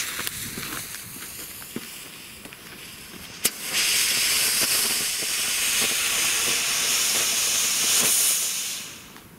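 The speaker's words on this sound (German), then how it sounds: "Goldrauschfontäne von Feistel." Feistel Goldrausch firework fountain spraying with a sudden loud onset, then a steady, broad crackling hiss that holds for several seconds before fading out.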